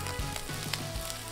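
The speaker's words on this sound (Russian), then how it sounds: "Жарим так минуту." Steady sizzling of rice and shrimp frying in a hot pan, with soft scraping and stirring sounds throughout, no voices.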